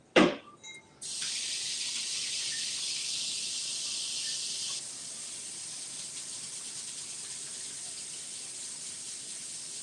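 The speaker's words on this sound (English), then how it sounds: "Let me wash my hands." A kitchen sink tap is turned on with a clunk and runs in a steady hiss while hands are washed, the flow softening partway through and continuing at a lower level.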